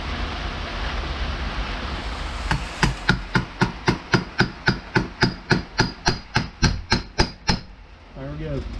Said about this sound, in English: Wasn't really a good way to get in there to hit that nut, and you know, we didn't hurt a thing.